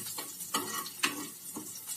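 Green chillies cut into large pieces frying with garlic in a pan, a faint, close sizzle broken by several soft scraping stirs at roughly half-second intervals.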